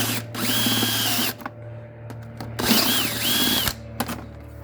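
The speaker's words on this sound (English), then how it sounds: "Drilling a hole." A power drill with a step bit whirs in two sustained bursts while drilling a hole on a Honda GL1800 motorcycle, with a short pause between them, close up and loud, over a steady low hum.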